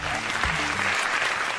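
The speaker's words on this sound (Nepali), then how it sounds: "जोरदार ताली" A studio audience at a televised dance competition gives dense, continuous applause, loud and close, with a voice faintly underneath.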